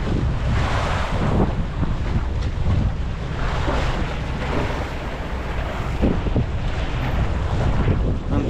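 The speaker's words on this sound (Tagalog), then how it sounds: "Malakas-lakas na naman ang hangin." Strong wind roars steadily and loudly at Basco, buffeting the microphone the whole time, with rushing water or surf mixed in underneath.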